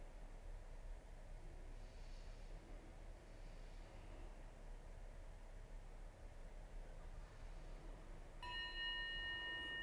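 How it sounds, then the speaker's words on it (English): A soft chime marking the end of a stretch interval in a home stretching workout rings once near the end, high and ringing over a steady hiss of room noise. "so there's the second bell"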